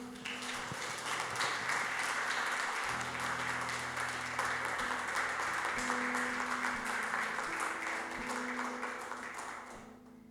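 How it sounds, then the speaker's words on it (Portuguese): Loud, sustained applause from a church congregation, dense clapping filling the space for several seconds before gradually tapering off. "Vocês podem dar uma salva de palmas para Jesus?"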